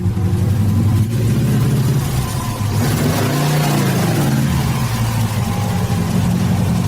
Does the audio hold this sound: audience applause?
no